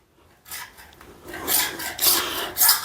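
A hacksaw cuts through PVC pipe in quick, rasping back-and-forth strokes that grow louder and more regular after a brief quiet start, heard close and alone.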